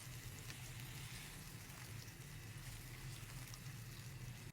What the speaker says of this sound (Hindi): इसी मसाले के अंदर हम अपनी चिकन को पकाएंगे।